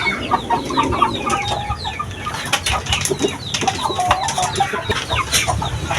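Young Shamo stag chickens cluck and call in repeated short bursts nearby, with some rustling and wing movement and a busy farmyard background, and no talking.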